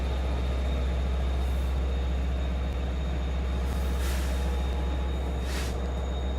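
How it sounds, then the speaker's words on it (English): A steady, loud rumble of a Long Island Rail Road commuter train idling at Speonk station platform, with faint hissing bursts of air brakes releasing now and then. "This train is going to Amagansett."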